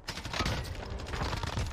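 Rapid gunfire from the video game Warzone rattles in a dense, continuous burst of shots, fairly faint and unbroken throughout, with no talk over it.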